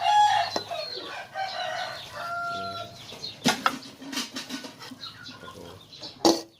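Farmyard chickens in a home kitchen setting: hens cluck steadily up close while a rooster crows, with a few sharp louder squawks and some wing flapping.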